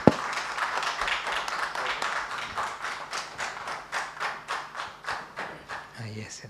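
Audience at a smart energy standardization conference in India breaks into applause, a steady patter of many hands clapping at moderate distance that swells into rhythmic, pulsing claps before fading near the end.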